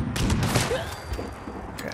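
Rapid gunfire from a weapon in the video game Fallout 76 rings out in several quick bursts of sharp cracks and thumps, fairly close, with a voice talking over part of the action.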